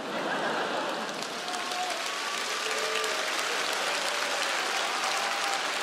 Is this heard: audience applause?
yes